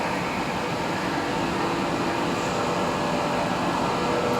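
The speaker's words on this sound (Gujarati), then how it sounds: "બીજા મશીને ચાલુ છે. રામ ભરોસે મશીન ચાલે છે." Lathe machine running in a heavy-duty machining workshop, a steady, loud mechanical hum and broadband whir with no breaks, carrying on evenly without any talk.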